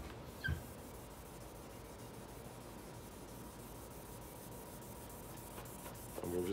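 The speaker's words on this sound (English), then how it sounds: "And we're just gonna sand, and we'll sand the whole thing with 1500." Wet sanding of 2K clear coat on a speaker enclosure, a steady, quiet rubbing hiss of fine abrasive sliding back and forth over a hard surface, continuous and close, with a faint knock near the start and end.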